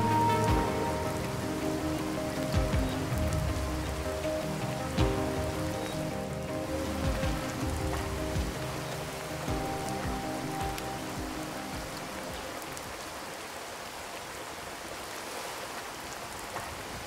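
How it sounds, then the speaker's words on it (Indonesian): Heavy rain pours down in a forest, a dense, steady patter of drops on surfaces that stays strong throughout and slowly eases toward the end. "tiba-tiba hujannya turun begitu deras"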